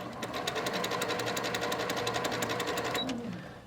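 Sewing machine stitching a quilt block, a rapid, even mechanical clatter of needle strokes close by, running continuously and slowing slightly at the end.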